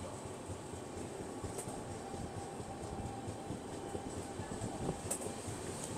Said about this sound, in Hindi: तो पतरातू रेलवे स्टेशन हम लोग निकल रहे हैं